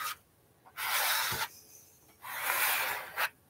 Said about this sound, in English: All right, so I'm just going to spread this with the Bondo spreader.